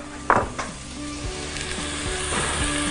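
Melted butter and vegetable oil sizzle steadily in a pot, with a sharp clink of a utensil near the start and faint scraping as something is stirred.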